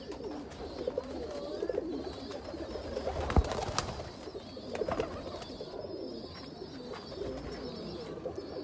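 Teddy and Rampuri baby pigeons coo softly amid a busy background of fluttering and rustling, with a sharp clatter partway through.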